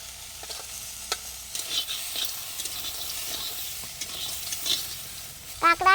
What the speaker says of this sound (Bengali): কি সুন্দর করে মাছ ভেজে নিয়েছি